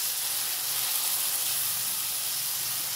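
Vegetables sautéing with salt and turmeric give off a steady, loud hiss and sizzle that fills the whole stretch, with no voices over it.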